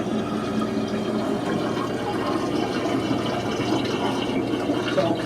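Water rushes and gurgles steadily down a drain in a fire house, a continuous close wash of flowing liquid with no voices.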